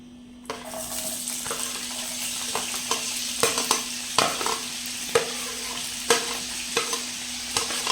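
Potatoes dropped one by one into a pan of hot oil with green chilies for Hakka noodles, a loud sizzle starting suddenly and then a run of sharp clinks and stirring scrapes over the steady frying hiss.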